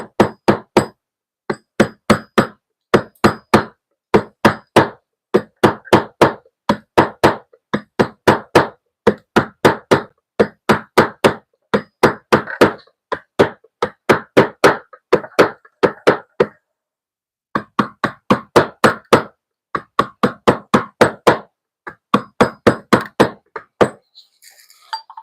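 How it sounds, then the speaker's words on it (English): Walling hammers strike stone in a carving workshop, a long run of sharp ringing blows in quick bursts of several hits with short pauses between, loud and close throughout. "Walling hammers."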